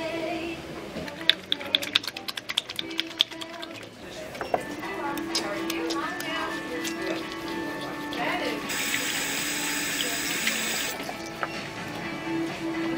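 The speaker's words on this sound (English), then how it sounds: "I'm gonna wash my hands." Tap water running into a sink as hands are washed in a Bath and Body Works store, a steady splashing hiss, louder for a few seconds, under people talking and ambient shop noise.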